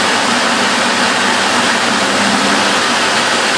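A vacuum cleaner motor runs at full power, a loud, steady, broadband roar with no change across the few seconds.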